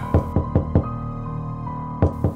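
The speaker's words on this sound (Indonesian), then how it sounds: "ada yang mengetuk-ngetuk kayu bagian belakang pos ronda." Knocks on a wooden wall sound close and hollow, four evenly spaced raps, a short pause, then two more, with a faint low hum underneath, as in a horror story sound effect.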